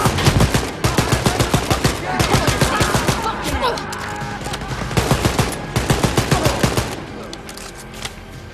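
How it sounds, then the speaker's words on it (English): Rapid bursts of automatic gunfire from a shooter battle against Nazis in Wolfenstein: Youngblood, loud and close in dense volleys with a short lull midway before the firing resumes. "Let's shoot some Nazis."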